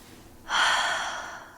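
A single deep inhale, close and soft, swells in a smooth airy rush that rises quickly and then tapers slowly, heard alone with no talking.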